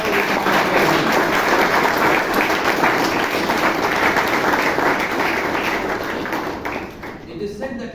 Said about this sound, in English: please give a big round of applause to all